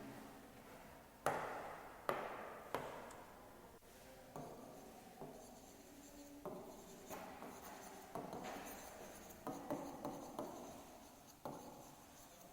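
Chalk or marker tapping and scratching as a teacher writes on a board during a geography class, a string of sharp taps and soft scraping strokes, close and fairly quiet in a still room.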